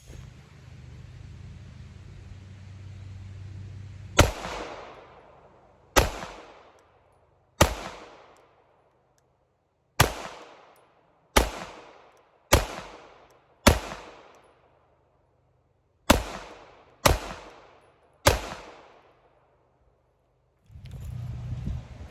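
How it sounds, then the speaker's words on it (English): Sig Sauer P320 XFIVE Legion pistol fired outdoors, ten sharp, loud shots spaced irregularly over about fourteen seconds, each with a short ringing decay, beginning and ending with low background rumble. "Let's put a few more rounds through it."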